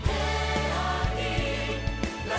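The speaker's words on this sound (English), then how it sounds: "The World Youth Day of Panama 2019 already has a theme song" Theme song for World Youth Day Panama 2019, a full musical arrangement with steady beats and rich layered tones, playing continuously and loud with no talking.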